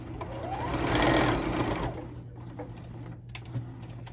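Domestic sewing machine stitching a reusable makeup remover pad, a steady close whirring run of stitches that swells and then fades into quieter handling noises.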